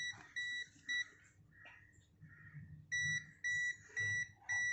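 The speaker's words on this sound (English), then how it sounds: "In NCB mode, if there is any current carrying conductor," A multimeter set to non-contact voltage mode beeps near a live current-carrying conductor, giving repeated short electronic tones in an uneven rhythm, fairly close and clear over a faint background hum.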